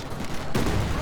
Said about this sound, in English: Big grenades exchange.